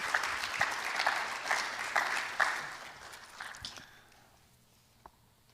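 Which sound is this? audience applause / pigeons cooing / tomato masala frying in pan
audience applause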